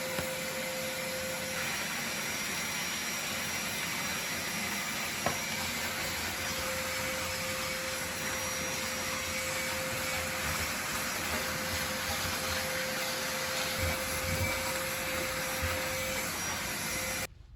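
A Henry HVR200 vacuum cleaner runs steadily with a constant droning whine, close and unbroken, with no talking.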